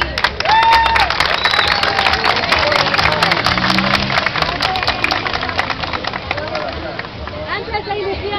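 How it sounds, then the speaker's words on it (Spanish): Crowd applause at an outdoor peace march, dense, loud clapping sustained throughout, with voices calling out over it. "yo quiero que todos y todas nos demos un gran aplauso por estar hoy aquí"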